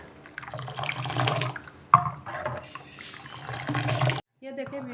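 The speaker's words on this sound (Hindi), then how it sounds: "फिर दोबारा से हम इसमें डालेंगे चिल्ड वाटर" Chilled water is poured into Kashmiri chai as it cooks, a close splashing pour that starts and stops in bursts and then drops briefly to silence, while someone talks over it.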